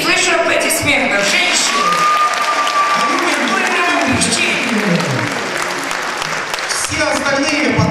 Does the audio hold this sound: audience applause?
yes